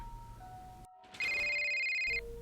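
A phone ringtone plays as a steady, loud electronic tone held for about a second after a brief pause, with fainter tones beneath, in a tense horror setting.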